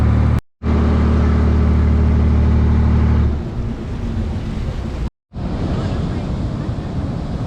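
Ocean surf rolls in at Tannirbhavi beach in Mangaluru during the monsoon, a loud continuous roar of waves heavily buffeted by wind noise on the microphone, broken by two brief dropouts.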